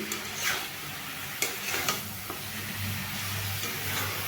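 Papaya curry ingredients are stirred and mixed in a pan, with a few close scraping clacks of the spoon over a steady low cooking hiss.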